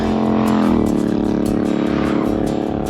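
Cars pass by on a road near a cyclist riding from Budapest toward Balaton in Hungary, a loud continuous engine roar and tire rush with a rising and falling pitch as vehicles go past close by.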